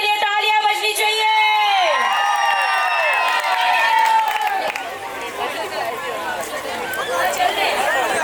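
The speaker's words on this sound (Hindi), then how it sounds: "एक बार मोहित भैया के लिए तालियां बजनी चाहिए" A carnival stage crowd cheers and whoops with scattered clapping, loud and close, with excited voices and chatter running throughout.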